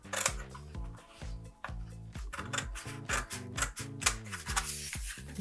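Scissors snip paper greeting cards, cutting out the shapes in quick, steady, close-up strokes with no talking.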